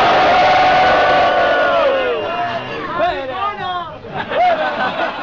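A concert crowd at the Sala Fun Club in Seville boos together, loud and close, with long wavering drawn-out jeers that rise and fall over a noisy babble of voices.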